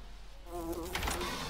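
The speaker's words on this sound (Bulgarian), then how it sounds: "Не бе, споко, мухи са просто." Flies buzzing in the horror video game Doors 2, a steady droning hum that swells louder after a quiet start and holds near and continuous for the rest of the moment, with no talking.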